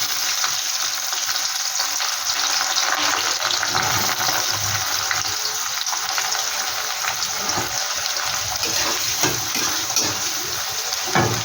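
Onions sizzle and crackle steadily in hot oil in a pan, cooking for a chicken pickle. The frying hiss is loud and continuous, with occasional scrapes of stirring and no talk.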